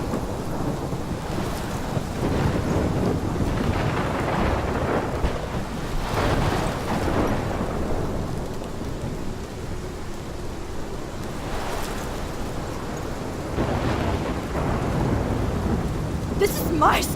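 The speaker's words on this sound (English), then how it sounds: "This is my storm." Heavy rain pours throughout a thunderstorm in the video game Life is Strange, with repeated loud rolling thunder swelling over the constant wash.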